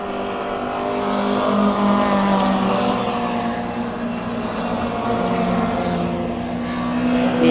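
Mini race cars pass on a motorsport track with loud engine drone and whine swelling and fading as each car goes by, heard continuously with no speech.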